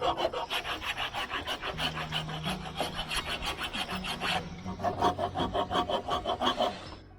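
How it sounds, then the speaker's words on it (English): Steady back-and-forth rasping of a hand file working a part, strokes repeating in a quick even rhythm, close and moderately loud, with a brief low tonal hum partway through. "Fetch a file and file."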